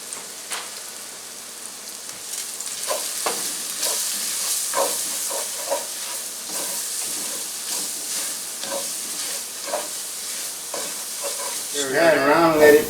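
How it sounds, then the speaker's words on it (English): Meatball stew ingredients sizzle and brown in a pan, a steady crackling fry with repeated spoon stirs and scrapes throughout, growing louder and busier toward the end. "Stir that around, let it brown up a bit."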